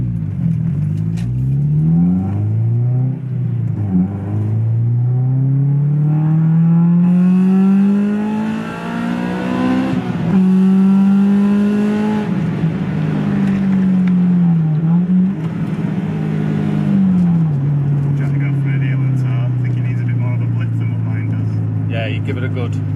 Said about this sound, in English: Just rev it, just on and off.